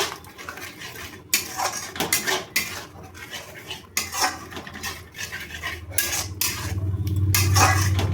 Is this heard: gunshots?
no